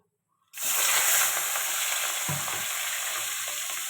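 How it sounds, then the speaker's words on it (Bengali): Marinated prawns coated in chilli powder hit hot oil with a sudden loud burst of sizzling at about half a second, settling into a steady, dense crackle with a soft clunk of a utensil partway through. "এটা ভালো করে ভাজবো"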